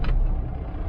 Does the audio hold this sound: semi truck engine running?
yes